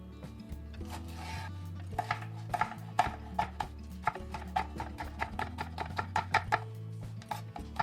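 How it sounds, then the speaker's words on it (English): A knife chops a jalapeno on a cutting board for a summer pasta salad, with steady, quick, evenly spaced chops close by over soft background music. "Optionally, I'm going to be chopping up 1 jalapeno"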